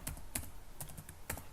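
Keys clack on a computer keyboard as a terminal command is typed, soft irregular taps close by, quiet and without talk.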